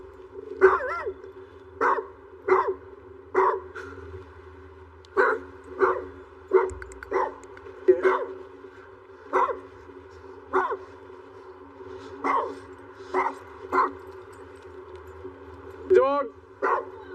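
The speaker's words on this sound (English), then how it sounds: "He's got a mean bark." A dog barks repeatedly at a street scene, about a dozen sharp, fairly close barks in an uneven rhythm spread across the stretch, with a low rumble underneath.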